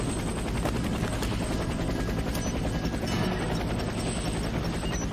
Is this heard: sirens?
no